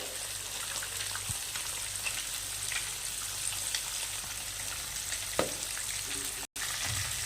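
Katla fish pieces frying in a pan of hot oil, making a steady, even crackling sizzle with a few faint clicks, close but moderate in level and continuing without a break.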